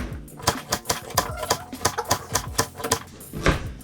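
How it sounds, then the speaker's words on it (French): Knife chopping carrots into rounds on a cutting board, a steady series of about a dozen crisp close thuds and clicks at an even rhythm, with no talk. "Après on coupe en rondelles."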